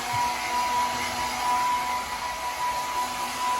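A hair dryer blows hair dry before a Turkish championship event, a steady, loud rushing whoosh with a thin whine that runs without a break for the whole stretch.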